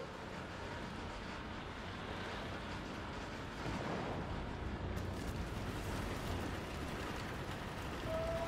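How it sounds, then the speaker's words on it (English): Rain falling in a video game, a continuous hiss of steady downpour that grows slightly heavier partway through, with a faint tone appearing near the end. "This rain makes the game so much better, personally."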